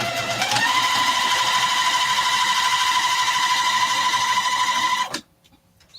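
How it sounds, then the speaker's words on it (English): A sewing machine stitches through vinyl and fabric for a zippered fat quarter project bag, fitted with a very thin needle. It runs as one steady, loud whir for about five seconds, then stops abruptly. "Sounds like it sewed through like a champ."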